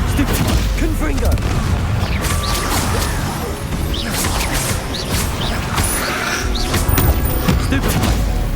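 A Confringo blasting spell explodes in the Hogwarts Legacy video game amid dense, continuous combat noise, with crashes, booms and mechanical clatter all loud and layered together, and game voices shouting over the fight.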